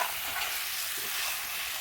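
Taro being stirred as it fries in oil with ginger garlic paste and chilli, a steady dense sizzle with soft scraping of the spoon running throughout, close and alone.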